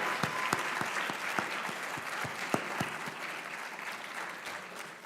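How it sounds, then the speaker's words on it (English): Audience applauding at a medical college awards day ceremony, steady sustained clapping from a large crowd with a few sharper close claps standing out, no talking over it. "Let's have a round of applause for all of your class representatives"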